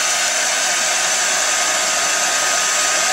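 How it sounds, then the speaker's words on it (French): Hair dryer blowing on its highest heat setting, a loud, steady broadband whoosh of airflow and fan hum that stays constant from start to finish, with no voices. "Je vais mettre en chauffe la plus forte."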